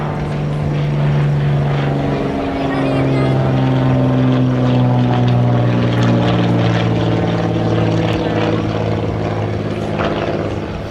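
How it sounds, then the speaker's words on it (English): A small propeller plane drones steadily overhead near a railroad overpass, its engine tone loud and sustained throughout with slight pitch shifts as it passes. "I did get a video of this small prop plane that was leading the way"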